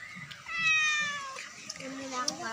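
A cat meows with rising and falling harmonic calls at a seaside outing, under background chatter and ambient noise.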